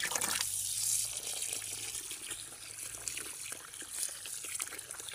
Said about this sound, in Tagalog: Ito ning basaon nag tubig.